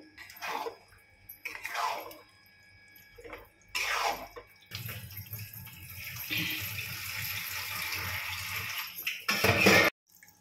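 Water pours steadily into a pot for several seconds, a rushing splash that follows a few scattered bursts of sound.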